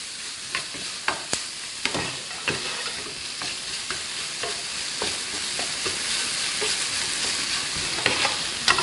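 Squid stir-fried over lowered heat in a pan and tossed through a seasoning sauce: steady frying sizzle with repeated sharp clacks of a utensil scraping and stirring against the pan, no talking.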